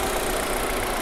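A 2016 Kia Rio with the 1.6-litre engine idles steadily, a smooth, even engine hum held close and constant for about a second with no talking.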